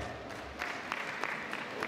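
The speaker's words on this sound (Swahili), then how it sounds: "tumpigie makofi tafadhali" Applause from an audience at a fashion night event in Kahama, a steady wash of clapping and crowd noise with a few sharper claps rising through the middle.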